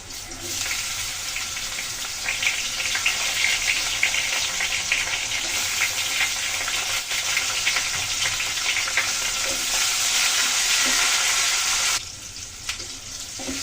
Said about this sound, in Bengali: এখন দিয়ে দেবো টমেটোগুলো। একটু টমেটো দিয়ে দিচ্ছি।